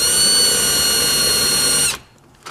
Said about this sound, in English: So I've got a hopefully newer bit. Put a dimple in this motor housing.